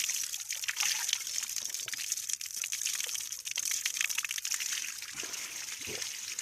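Clean, cold groundwater flows out of a spring, a steady bright trickle and gurgle of running water heard close up and continuing without pause, with no talking over it.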